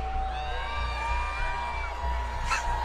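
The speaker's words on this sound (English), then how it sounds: "I feel like the Dickies Arena was not making nearly enough noise there for Peterbot and Pollo" An arena crowd at Dickies Arena cheers and whoops at moderate volume, with a low rumbling bass beneath and a brief louder burst near the end.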